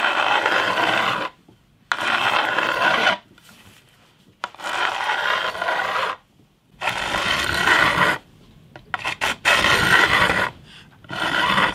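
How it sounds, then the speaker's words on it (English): A metal file rubs along the frets of a bass guitar in repeated rasping strokes, each lasting one to two seconds and separated by short pauses, close and fairly loud. "I'm just going to rub this file gently down the frets"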